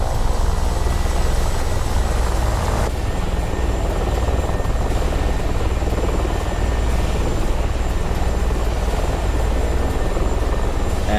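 Ka-50 attack helicopter in a DCS World dogfight, a loud, steady, continuous rotor and engine drone throughout.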